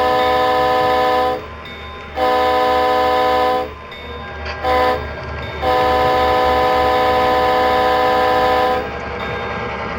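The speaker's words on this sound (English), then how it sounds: "We begin with this morning's premier passenger train, the Shoshone, racing to Denver." An HO scale model passenger train on a Colorado & Southern layout runs with a steady mechanical rumble, broken by several long horn blasts that start and stop in bursts across the run, with no talking.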